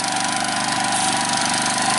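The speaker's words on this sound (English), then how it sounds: "Doing a demonstration with James's new Cub Cadet tractor" A new Cub Cadet 4WD tractor fitted with a front loader and a separate hydraulic pump runs steadily nearby, its engine a constant loud drone with no talk.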